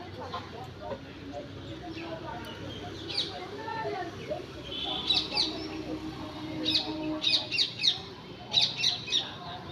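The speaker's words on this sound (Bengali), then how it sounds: "বাড়িতে চড়ুই পাখি আছে" Sparrows around a house give short, bright chirps that come in quick clusters, growing busier and louder in the second half over a low outdoor murmur.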